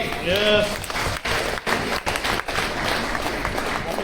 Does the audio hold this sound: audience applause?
yes